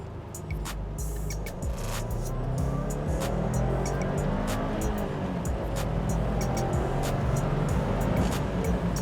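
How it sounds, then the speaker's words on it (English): A Subaru WRX STI Series White pulls hard in second gear, its engine a loud, continuous roar that climbs steadily throughout, with no talk over it. "All right, we'll do a little second gear pull, see how it feels."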